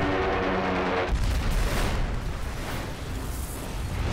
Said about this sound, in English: The largest explosion in the ship's storied history shakes her from bow to stern.